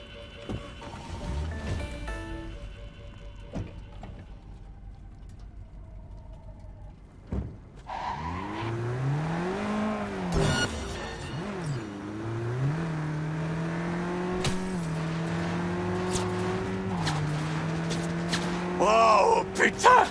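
A car in a video game speeds away from the police, its engine revving and whining up and down in pitch as it accelerates, loud and continuous. Game effects and clatter are layered over the engine.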